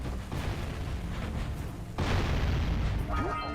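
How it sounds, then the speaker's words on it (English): Objects blowing up in the platform game Jak and Daxter: dense booming bursts, with a sharper blast about midway, mixed with game sounds. "I'm just trying to get all of these exploded."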